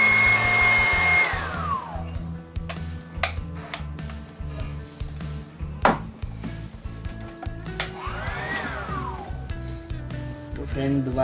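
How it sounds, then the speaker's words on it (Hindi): Hot air blower aimed at a stuck, long-used ceiling fan bearing gives a steady blowing whoosh that runs through the whole stretch, mixed with clicks, taps and other busy background sound. "मैं फिर से इसके ऊपर गर्म एयर लगाऊंगा"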